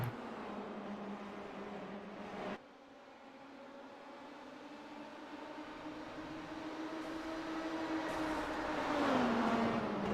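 Race cars driving hard on a racing track. Engine drone rises steadily in pitch and loudness, with one sharp cut partway through, no voices over it.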